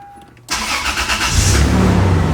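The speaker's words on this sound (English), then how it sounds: "we'll start the car" A 2001–2002 Toyota 4Runner engine cranks and catches, then settles into a loud, steady rumble at close range with no one talking.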